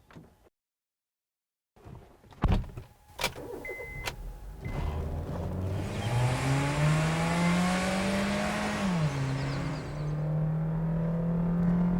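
Third-generation Honda City on an empty racetrack: a sharp mechanical clunk, then the engine revs up loud and close, pitch climbing steadily through the gears with a brief dip at a shift, no talking.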